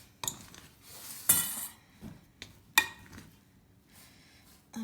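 Shaggy sourdough dough being mixed in a bowl, with intermittent close clinks and scrapes of a utensil against the bowl and soft stirring between them, quiet overall.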